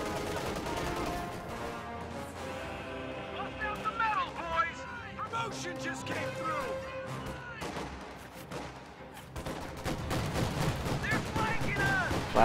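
Rapid flak half-track gunfire in Company of Heroes, a dense chatter of bursts and impacts layered over battlefield music and effects, with a voice talking over much of it.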